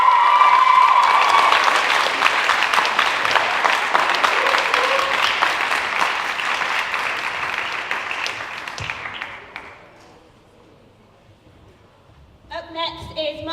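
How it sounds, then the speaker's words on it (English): Loud, sustained applause from the audience at a 2018 student leadership awards ceremony, dense and steady for about nine seconds before fading out, followed by a short burst of brief sounds near the end. "Let's have a round of applause."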